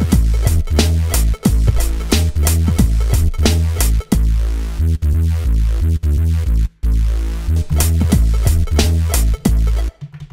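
A synthesized Reese bass made in Reason drives a loud, dense neuro-style loop for about ten seconds, with rhythmic bass hits and a steady groove under a busy beat. There is no talking.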